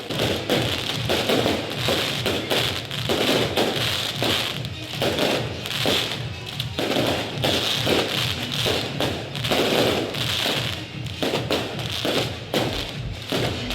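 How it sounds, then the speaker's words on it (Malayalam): Fireworks boom and crackle in a dense, continuous barrage at a European church festa, loud thuds overlapping with sharp bursts and a constant crackling wash. "നമ്മൾ വെടിക്കെട്ട് തുടങ്ങിയിട്ടുണ്ട്"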